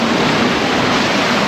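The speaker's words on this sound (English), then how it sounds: "Yeah, but it's a lot. Yeah, it's quite windy now." Strong gusty wind by the water roars loudly and continuously, a dense broadband rush with heavy buffeting and no letup.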